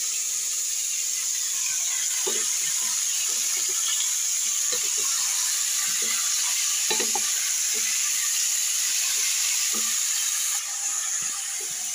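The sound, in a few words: sautéing onion, ginger and garlic in a pan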